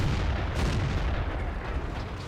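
Cannon fire from a Centurion Tier 8 medium tank in World of Tanks booms through a dense, rumbling battle soundscape, with heavy low-end blasts and a sharper report near the end.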